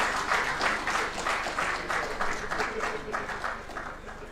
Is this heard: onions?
no